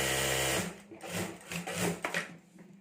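A sewing machine stitches a clutch bag's zip and lining together, a fast mechanical whir running loud and close for half a second before breaking into short stuttering bursts and taps of handling.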